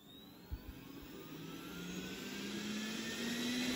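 A Roborock S4 Max robot vacuum running on max power gives a steady, close whine and whoosh that slowly swells in loudness, with a rising tone and a couple of soft knocks early on.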